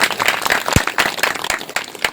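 Audience at a Hindi spiritual talk applauding, a short burst of many hands clapping at close range, fairly loud and uneven.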